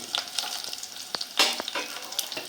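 Shallots frying in hot oil for a tempering, close spattering crackles and pops in an uneven rhythm over a low sizzle, with no talking.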